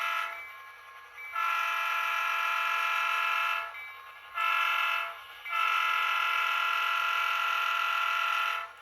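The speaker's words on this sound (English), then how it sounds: "I'll go ahead and blow the whistle for the crossing." A model train's whistle sounds in three blasts for a street crossing, a long one, a short one, then a long one, loud and bright against a quiet background.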